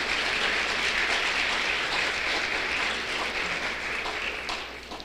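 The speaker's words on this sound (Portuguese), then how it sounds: "E vocês podem aplaudi-la também" An audience applauds steadily at a church gathering presenting a Christian broadcaster. The dense, even clapping holds for several seconds and slowly fades toward the end, with no voices over it.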